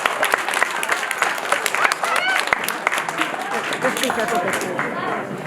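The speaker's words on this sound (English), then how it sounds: "Please give them a round of applause." An audience at a Torah assembly claps as a panel of rabbis takes their seats, a steady, moderately loud spatter of many hands with scattered louder claps and faint voices mixed in.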